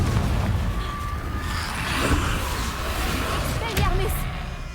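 Booming Confringo spell explosions in the Hogwarts Legacy video game, a loud rumbling blast with crackling bursts over continuous heavy game noise, while someone talks over the action.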